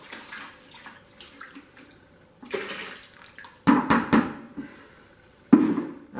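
Water splashes and pours while spent grain is rinsed out of a pot during home beer brewing, intermittent gushing bursts with clanking of the vessel, close and moderately loud.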